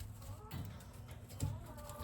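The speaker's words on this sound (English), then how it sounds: "These roosters are bad, and one already scratched me." Backyard roosters on an urban homestead cluck and squawk in short close bursts, faint and low-level, with a couple of louder fowl calls among the coop rustle.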